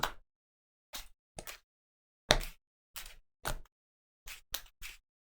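KeyForge cards being shuffled in short separate riffles, about nine brief papery bursts with silence between them, close and fairly quiet.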